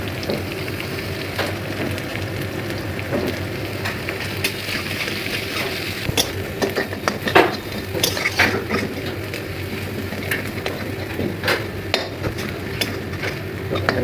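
Green chillies, black cumin seeds and onion fry in oil in a pan, with a constant sizzle broken by scattered clinks and scrapes of a spatula stirring against the metal. The sound is close and steady, with no talking.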